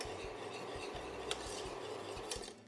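Mango confit stirred constantly in a pot as it comes to the boil, a utensil scraping and rubbing around the pan in regular close strokes, with a couple of sharper clinks against the metal.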